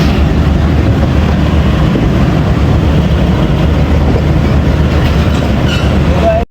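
13 Up Awam Express passenger train pulling into Wazirabad, a loud steady rumble of wheels and carriage noise heard up close, with a sharp cutoff at the end.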